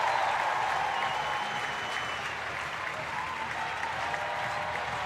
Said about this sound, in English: And the crowd suddenly come alive here, realizing they might be able to see something.